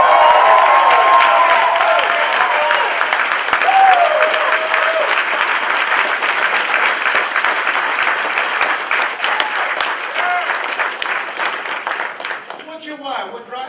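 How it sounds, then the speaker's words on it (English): A large seminar audience at a motivational leadership event applauds and cheers, with loud continuous clapping, scattered whoops and a voice or two over it, slowly tapering near the end. "Give yourselves a round of applause."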